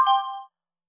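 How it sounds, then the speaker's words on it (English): A single chime alert tone from municipal fire alarm automation software: one clean, bell-like ding of about half a second that ends abruptly, followed by silence. "other tones are available, such as chime"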